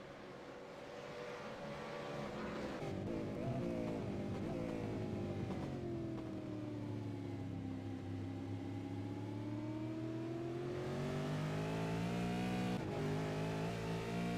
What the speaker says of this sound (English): Great battle with this group of 4 cars.